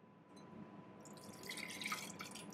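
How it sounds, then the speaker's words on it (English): Coconut water poured from a fresh coconut into a cup during home food prep, a close, steady trickling splash with bright dripping spatters building over about two seconds, no talking. "Let me put that water in a cup"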